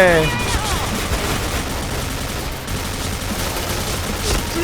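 HK416 assault rifle fire in the shooter game Point Blank, a dense, loud, sustained rattle of automatic shots blending into continuous noise, with a voice talking over it.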